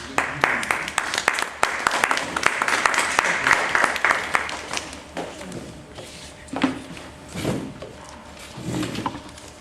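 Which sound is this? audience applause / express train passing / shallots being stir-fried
audience applause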